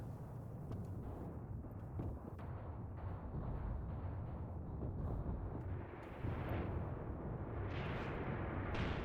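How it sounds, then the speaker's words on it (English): Machine gun bursts and heavy battlefield rumble in the Mius Front war game, a dense, continuous wash of firing and distant explosions that swells louder toward the end. "Just look at these MG bursts."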